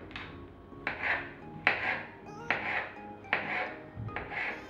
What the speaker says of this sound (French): je vais enlever les queues des champignons et leur peau. Et je les coupe en petits morceaux